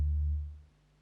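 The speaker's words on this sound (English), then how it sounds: "And then next I added this like synth bass, but I used it more of like a pad than an actual bass" A deep, smooth synth bass tone in FL Studio, used as a pad, swells and then fades out over about a second, soft and sustained.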